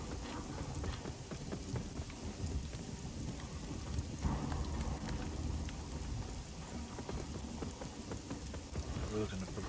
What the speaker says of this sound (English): one of the first major areas you go into has a gigantic amount of rain particles going on